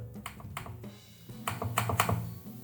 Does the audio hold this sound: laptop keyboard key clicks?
yes